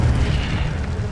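A fire spell cast in Hogwarts Legacy erupts as a loud, booming burst of flame, a single dense whoosh filling about a second with no talk.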